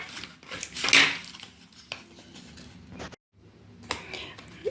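Three metal dough cutters clink and rattle against each other as they are handled, a few sharp clatters with quieter taps, close by.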